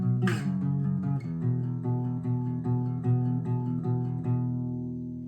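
Acoustic guitar strums the chorus chords of a song, steady strokes changing chords, close and clear, with no voices.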